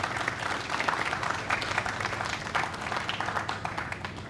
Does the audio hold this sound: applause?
yes